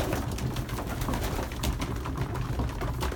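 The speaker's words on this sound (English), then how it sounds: "I just fed pigeons." Belgian racing pigeons coo inside a loft just after feeding, several birds murmuring in soft overlapping coos close by, steady and unbroken with no talk.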